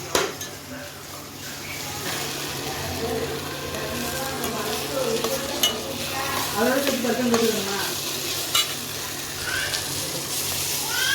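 Chana dal being sautéed with tomato and onion in a pan for kadalai paruppu chutney: steady sizzling with scraping stir strokes close by, continuous throughout and with no talking.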